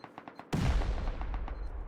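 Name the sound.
C4 explosive detonating in the video game Rust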